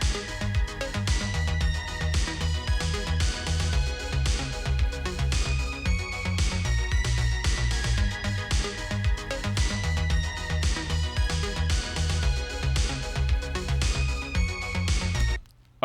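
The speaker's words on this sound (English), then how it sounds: "It's like I did a really heavy compressed blowout one that just sounds like this is as cheesy as synthwave gets" A heavily compressed, cheesy synthwave track plays throughout, with dense pounding drums and bright synth lines at a steady loud level, cutting off abruptly at the end.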